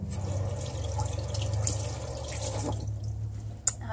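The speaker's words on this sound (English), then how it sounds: "I'm going to get some water in the sink" Water runs steadily from a sink tap into a basin with a soft, even rushing hiss, close and moderately quiet, ending with a single small drip or clink near the end.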